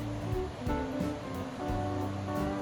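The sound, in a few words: river rushing, swollen after continued rain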